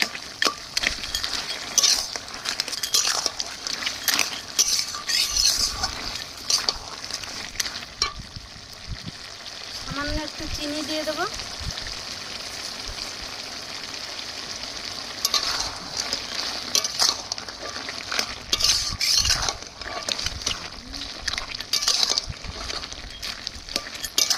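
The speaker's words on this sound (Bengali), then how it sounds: "ছাপলা তেলের উপরে দিয়ে দু মিনিট ফুটিয়ে নিচ্ছি" Water lily stems frying in oil in a pan, a steady sizzle with repeated scraping and clinking of a stirring utensil throughout, loudest at the start and end, no one talking.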